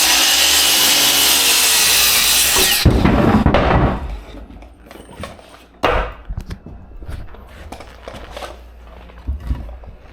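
A saw cuts through a 10-inch wooden board in a home build, a loud, continuous buzzing cut that stops abruptly, followed by knocks and scraping as the wood is handled.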